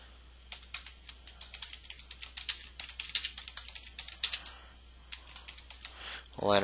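Close, crisp keystrokes clatter on a computer keyboard as a title is typed, coming in quick irregular bursts with short pauses, followed by a brief voice at the very end.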